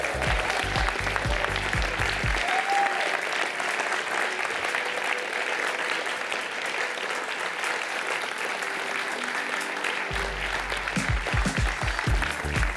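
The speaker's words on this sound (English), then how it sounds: "Yes, more applause." Sustained applause from a large audience at an awards ceremony, a broad even wash of clapping that holds steady for the whole stretch, with a few heavier low thumps at the start and end.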